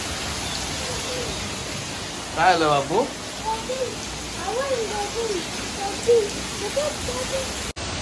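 Heavy, continuous rain pours down as a steady, broad hiss throughout, with a short spoken question over it.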